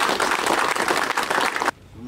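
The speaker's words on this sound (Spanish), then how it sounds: "para el cual les pido un fuerte aplauso" A crowd at a government handover of housing materials in San Nicolás gives a loud, dense burst of applause that holds steady for under two seconds, then stops abruptly into near quiet.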